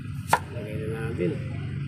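A knife comes down on onion on a cutting board in a home kitchen, one sharp chop followed by quieter cutting sounds over a low background hum.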